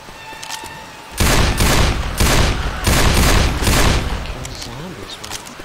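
Loud bursts of automatic gunfire mow down zombies in Left 4 Dead 2, several heavy volleys close together after a quiet start, with voices talking underneath.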